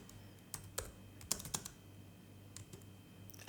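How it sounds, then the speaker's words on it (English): Keys clatter on a computer keyboard in short irregular bursts of close, light clicks, with soft pauses between the strokes and a faint steady hum underneath, no talking. "I cannot type today, sorry guys."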